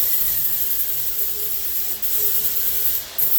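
An electric sander runs at slow speed on an old cabinet door, a steady close abrasive whir with brief dips as it moves across the surface.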